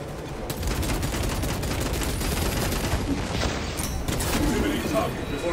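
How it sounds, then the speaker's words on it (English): Dense, continuous gunfire and heavy impacts from a pistol finishing move in Warhammer 40,000: Space Marine 2, a loud unbroken barrage with a voice talking over the combat. "Pistol punish is always a fun time."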